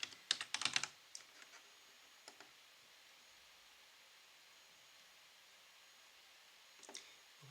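Quiet clicking of keys on a computer keyboard: a quick flurry of keystrokes at the start, a few isolated taps in the middle, and another short burst near the end, over faint hiss.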